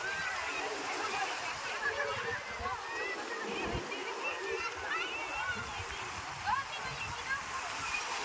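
Seawater at high tide splashes and sloshes steadily nearby in a continuous rushing wash, while people talk over it.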